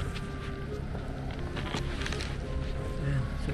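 Wind gusting through a heavy snowstorm in Canada, a steady broadband rush of outdoor air noise close to the microphone, continuous and fairly loud throughout with faint background sounds.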